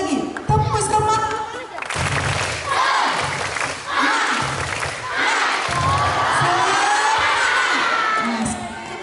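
A class of primary school pupils performs a rhythmic clapping cheer in unison, their clap bursts and lively shouting voices filling the room at close range.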